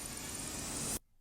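A noise riser in a pop music track builds into the outro as a loud, dense white-noise hiss that holds steady for about a second, then cuts off abruptly into near silence.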